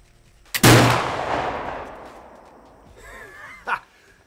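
A single .58 caliber flintlock rifle shot fired outdoors: a sharp loud crack followed by a long rolling echo, then a fainter second pop near the end.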